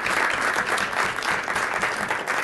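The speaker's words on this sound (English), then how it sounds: "And another round of applause, please, for Andrei." An audience at an awards prize-giving ceremony applauds, a full, steady stream of clapping that holds at an even level throughout.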